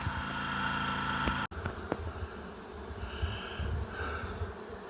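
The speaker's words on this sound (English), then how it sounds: "A swarm of bees" A swarm of bees open-feeding on sugar water, a dense continuous buzzing hum close to the microphone, with a sharp click partway through and brief higher buzzes from individual insects passing nearby.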